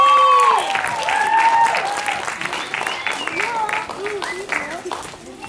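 Concert audience applauding loudly, a sustained wash of clapping with cheering voices and whoops over it, fading slightly toward the end.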